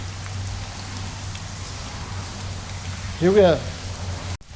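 Steady rain patters outdoors beside a 1987 Toyota 4Runner being worked on, an even wash of drops throughout, with a brief spoken remark and a short squeaky sound near the end.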